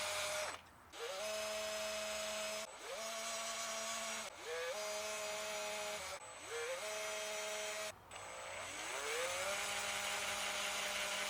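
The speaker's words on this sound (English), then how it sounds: "I just need to drill the holes." A power drill drills screw holes in a custom guitar build, whirring in five short bursts, each spinning up to a steady whine and stopping briefly before the next.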